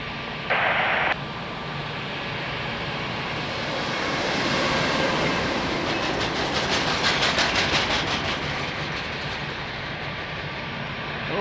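A jet airliner at Lisbon Airport roars steadily throughout, a broad loud rumble that swells mid-clip and carries a faint tonal whine, with no talk over it.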